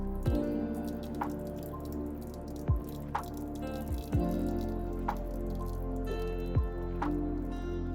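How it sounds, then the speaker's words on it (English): Water poured into a bowl to soak a coco coir brick, a steady trickling and splashing stream with occasional louder drips and plops, close up and moderately quiet. "I'm just going to fill up the bowl part of the way."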